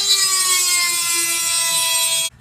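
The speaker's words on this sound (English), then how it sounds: "we're going to use a Dremel to make the holes the right size" A Dremel rotary tool grinds out holes in a clutch mount for a Murray mower, a steady high whine with a sustained tone that runs unbroken and close before cutting off abruptly at the end.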